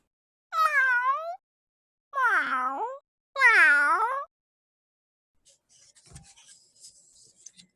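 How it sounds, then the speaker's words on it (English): Three drawn-out cat meows, close and loud, each rising then falling, followed by faint scratching and rustling. "A cat."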